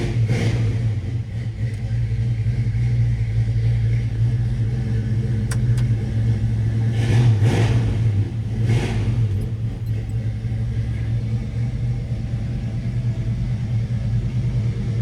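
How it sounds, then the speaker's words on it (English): A 1952 Chevrolet 3100 pickup's 350 V8 with Flowmaster muffler and dual exhaust idles with a deep, steady rumble, rising in a few short revs partway through before settling back. "Flowmaster muffler, dual exhaust."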